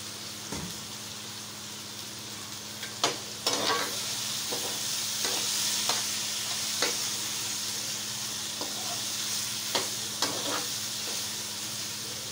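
Cut okra and green chillies frying in a pan with mashed tomatoes, a steady close sizzle broken by occasional scrapes and clinks of stirring, no talk.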